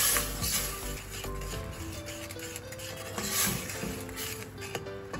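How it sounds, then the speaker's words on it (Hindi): Ground red chilli, turmeric and salt frying in a little oil for bhuni moong dal, with a soft sizzle under repeated utensil scrapes and light metallic clinks against the pan, close and steady, with no talking. "इसको हम थोड़ा सा फ्राई करेंगे, मतलब इसको भूनेंगे"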